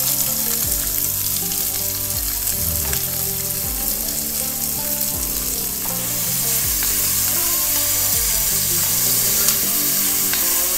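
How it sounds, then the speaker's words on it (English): Onions and vegetables frying in hot fat for a hearty stew, a loud, steady sizzle running the whole time with occasional stirring bursts and no talking. "we'll dump all the vegetables in it, all the onions in it"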